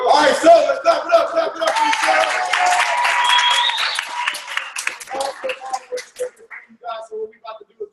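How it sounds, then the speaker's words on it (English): Group clapping and cheering at a distributor training event, starting with loud whoops and hoots from a crowd and breaking into scattered, uneven claps that thin out toward the end. "so let's clap it up"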